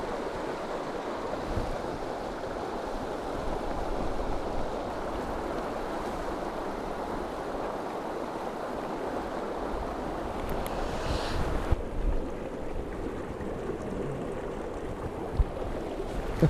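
Rushing flow of the Capitán River, a small Santa Cruz stream of icy mountain water, a steady broadband wash of water close by with some wind buffeting, continuous and loud throughout with no talk.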